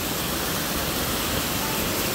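Constant broadband rushing of falling water, dense and unbroken, like standing near a waterfall.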